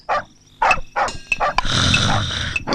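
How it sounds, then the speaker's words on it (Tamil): A dog barks loudly and close in a comedy film scene, several sharp barks in an uneven rhythm followed by a longer stretch of harsh, noisy barking and growling. "என்னப்பா நாய் கத்துது?"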